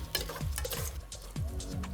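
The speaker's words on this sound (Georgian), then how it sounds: "კარგად ამოურევ." Lentils and chickpeas are stirred in a soup pot, giving soft scraping and sloshing strokes with a faint sizzle underneath, repeating in a loose rhythm at close range.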